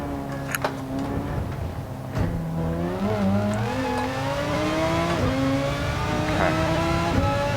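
Race car in Gran Turismo 7 at the Spa circuit, engine climbing through gears with rising revs and brief tire noise, steady and close with no talking.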